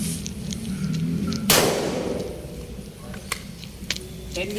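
A Canik TPS9 Elite-S pistol fires at an outdoor range during a zeroing test at 7 meters. One sharp, loud report cracks out with a short decaying tail, followed by quieter handling noise and faint voices.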